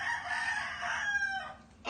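A rooster crows from a barn-animal mystery card, a single short crow that is fairly close and clear and ends abruptly.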